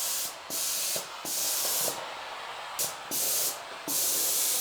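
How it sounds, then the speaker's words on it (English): Shark steam cleaner's sprayer fires hot steam in a series of loud, close hissing bursts, four or five blasts separated by short pauses, with no talking. "it'll spray whatever is in front of it with that hot steamy air"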